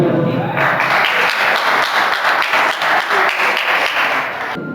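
An audience at a Christmas party in a home for special children breaks into loud, sustained applause, dense clapping that swells right after a short spoken introduction and then trails off slightly near the end.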